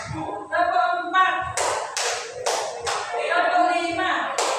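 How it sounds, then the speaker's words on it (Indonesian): Counted hand-clapping pattern in a teacher-led Indonesian class activity: several crisp claps in a quick run mid-clip, with talking before and after. "tepuk 4,"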